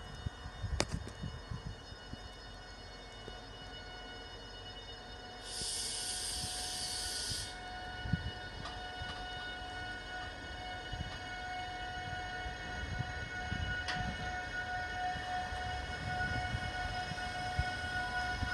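A train pulling out of Crewe station, a low rumble with steady hums and whines, a two-second hiss of steam or air partway through, and scattered clanks and thumps building as it gets under way.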